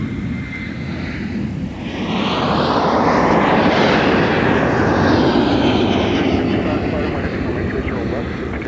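An airliner taking off from runway 30 right at MSP airport swells from a low rumble into a loud, sweeping engine roar that peaks midway and then slowly fades, with radio voices heard over it.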